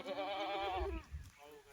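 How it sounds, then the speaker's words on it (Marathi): Dairy goats bleat nearby, with one long quavering bleat followed by a fainter second cry and low rumbling underneath. "परत आता पाच दुधाच्या शेळ्या घेतलेल्या आहेत"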